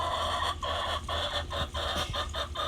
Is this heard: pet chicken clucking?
yes